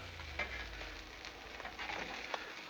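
Peppers and onions sizzle steadily on a hot Blackstone griddle, a continuous frying hiss with faint scraping and tapping of a spatula, fairly close and unbroken by talk.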